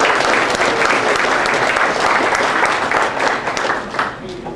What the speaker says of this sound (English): So round of applause for victory.